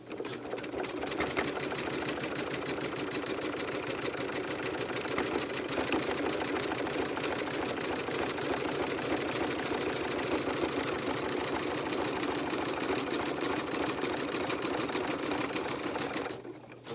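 Embroidery machine stitching with metallic thread, a steady, fast mechanical chatter that runs loud and continuous for the whole stretch before stopping abruptly at the end.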